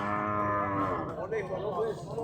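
A cow at a morning cattle market moos in one long, close, low call that trails off, with faint background bustle and no talk over it.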